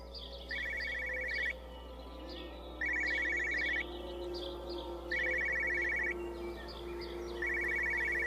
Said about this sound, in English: Where's that phone?